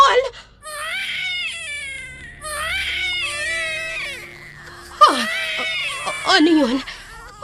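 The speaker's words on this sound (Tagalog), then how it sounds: "May naririnig ako mga iyak ng sanggol" An infant wails and whimpers in repeated crying bursts, loud and close, as a sound effect in a horror story about an aswang, with a voice speaking between and over the cries.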